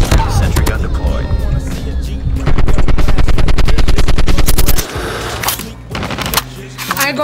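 A sentry gun in the video game Call of Duty fires a long loud burst of rapid, evenly spaced automatic shots, stops abruptly, and is followed by a few scattered shots and game noise.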